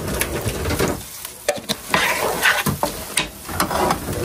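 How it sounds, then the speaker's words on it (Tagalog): Garlic sautés in butter and oil in a hot pan, a steady sizzle broken by the scrape and clatter of stirring, close and fairly loud. "medyo gigisa lang natin ng konti itong ating bawang para maluto siya"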